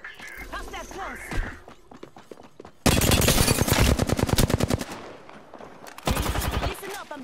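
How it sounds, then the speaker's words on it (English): Video game gunfire: after a brief voice, a loud sustained burst of rapid automatic shots gives way to quieter noise, then a second shorter volley erupts near the end. "Listen up, I'm getting shot at."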